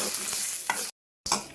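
Spices, red chillies, curry leaves and asafoetida dry-roast in a pan for idli podi, with steady scraping stirs and a soft sizzle near the mic, briefly cut to silence before resuming.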